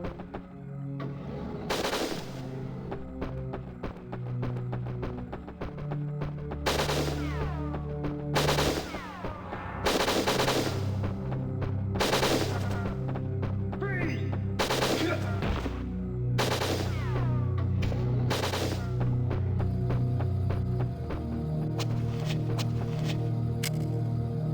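Gunfire in the video game Winback: Covert Ops pops in repeated short bursts over a steady game music track, the shots sharp and fairly loud throughout.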